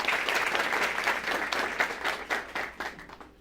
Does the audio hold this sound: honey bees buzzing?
no